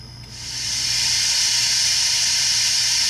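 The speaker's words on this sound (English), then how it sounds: "Steam blowdown." A loud, steady steam blowdown hiss from a Proto 2000 Berkshire model locomotive's Tsunami sound decoder, rising quickly and then holding evenly over a faint low hum.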